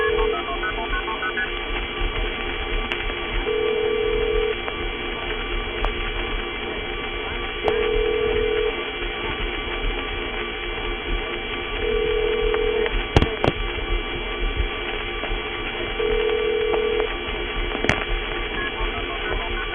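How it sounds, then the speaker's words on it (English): AIS operator ring tone on a vintage 1976–1981 telephone trunk line: a steady intercept-style tone sequence repeating in regular bursts every few seconds over constant line hum and hiss, with occasional sharp clicks. "One thing you will be able to hear, of course, is another ingredient of it, the AIS operator ring."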